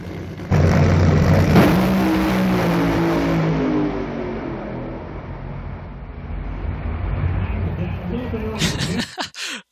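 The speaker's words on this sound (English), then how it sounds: "The timing of this van driving by is just, I mean, it's impeccable." A van drives past near a St. Louis dragway, a loud close roar of engine and tires that swells and then fades, with voices talking over it.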